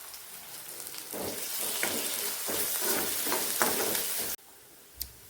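Onion-based masala with curry leaves fries in a pan for a capsicum and yogurt dish, a loud, steady sizzle with bursts of crackling as it is stirred, then cutting off abruptly into quiet with one last small clink.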